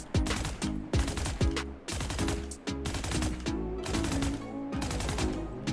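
Rapid automatic fire from a Phantom rifle with the Champions 2024 skin in Valorant: repeated bursts of punchy shots with short pauses between them, loud and close, with no talking.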